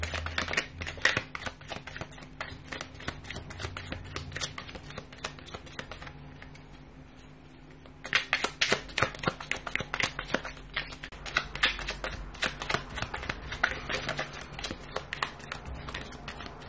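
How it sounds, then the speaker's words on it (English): A deck of tarot cards is shuffled in quick, crisp bursts of riffling clicks and taps, with a brief quieter pause midway before the rapid shuffling resumes, close and fairly soft. "give the cards a shuffle"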